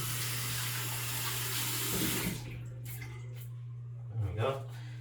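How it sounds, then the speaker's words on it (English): Hands being washed under a running tap, water gushing steadily for about two seconds before shutting off, followed by soft dripping and a brief splash, over a constant low hum. "Let me wash my hands first."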